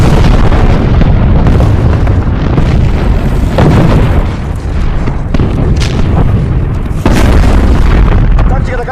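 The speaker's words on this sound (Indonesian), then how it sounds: "Tembakan artileri pun diluncurkan." Artillery fire in a World War II battle between Soviet soldiers and Nazi forces, heavy booms and explosions rumbling continuously and loudly, dense and layered throughout with no pauses.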